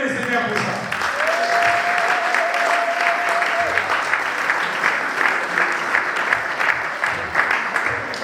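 A church congregation claps and cheers for the Lord at a surprise 40th birthday celebration, steady sustained applause filling the room throughout, with a voice briefly heard over it.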